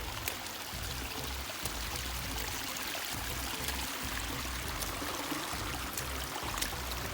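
A river flows in New Hampshire along the Appalachian Trail as hikers wade through it, a steady close rushing and splashing of water with scattered sharper splashes from footsteps.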